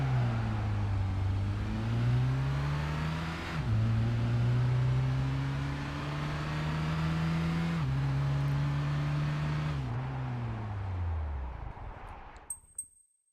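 A car engine in Gran Turismo 5 revs hard near the red line, holding a loud, steady drone with pitch shifts and dips as it changes revs, then cutting out abruptly into silence with a few small clicks.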